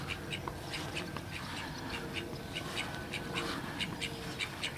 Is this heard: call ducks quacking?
yes